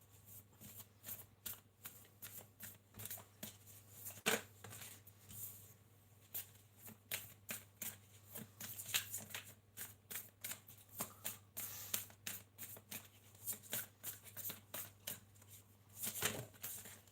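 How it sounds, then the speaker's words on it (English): Tarot cards being shuffled repeatedly at close range, a steady run of soft riffling and flicking bursts over a low constant hum, with no talking. "Marissa, I'm going to start pulling your cards."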